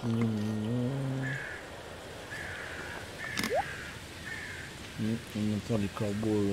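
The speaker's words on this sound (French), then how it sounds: "On entend les corbeaux au loin." Crows caw in the distance in a Stardew Valley game scene, a few spaced, faint calls over a soft ambient bed, with short tonal game music phrases at the start and end.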